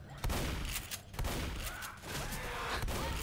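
Rapid gunfire from the zombie co-op shooter Left 4 Dead, No Mercy campaign apartments level, with dense repeated shots and thuds running loudly and continuously through the whole stretch.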